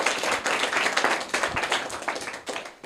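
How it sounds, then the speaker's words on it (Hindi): A classroom audience claps for a competition winner who has just been awarded a pen; lively, uneven hand claps come in quick bursts close to the listener, with no talking over them. "तो जोरदार तालियां हो जाए इनके लिए भी।"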